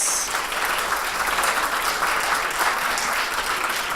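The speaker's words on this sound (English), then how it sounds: "Let's give them a big round of applause." Conference audience at a tech HR event applauds, a broad, sustained wash of many hands clapping steadily and loudly for several seconds, even and unbroken with no talk over it.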